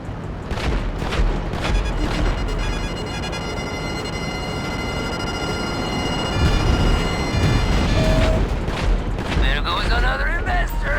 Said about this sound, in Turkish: Bu arada bize baya bir roket sıktı sanırım arkadaşlar. Duymuşsunuzdur o sesleri.